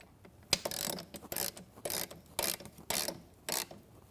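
A ratchet clicks quickly and steadily as bolts are tightened on a Studio Reformer frame with metal posts, its close, faint ratcheting strokes coming in regular bursts about every half second.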